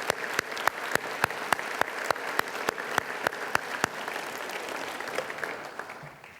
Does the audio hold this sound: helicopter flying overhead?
no